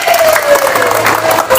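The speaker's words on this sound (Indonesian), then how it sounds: "Tepuk tangan dulu, tepuk tangan." A group of children at a club gathering claps for classmates with birthdays, giving brief, close applause with scattered voices mixed in.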